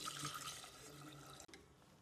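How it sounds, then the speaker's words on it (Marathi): Water pours into rice in a pressure cooker pot in a steady rushing stream for over a second, then cuts off abruptly, leaving a faint trickle. "आता आपण ह्या राईसचे हाफ पाणी टाकून घेऊ."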